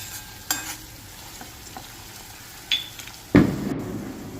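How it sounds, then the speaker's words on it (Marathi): Green chillies and garlic dropped into hot oil for a Agri-Koli style prawn curry, a few soft clinks of a spoon followed by a sudden loud sizzle that keeps crackling steadily. "इथे 2 मिरच्या त्या पण आपल्याला मस्त फ्राय करून घ्यायच्या आहेत आणि त्याच्यामध्ये आपण लसूण टाकायचं आहे आणि लसूणसुद्धा फ्राय करून घ्यायचं आहे"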